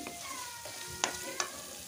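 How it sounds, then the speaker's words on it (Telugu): Ginger and garlic fry in oil with a soft, steady sizzle, while a few sharp utensil taps and clinks stand out over the quiet, close frying sound. "ఆయిల్లో అయితే మంచిగా ఇలా వేయించుకోవాలి."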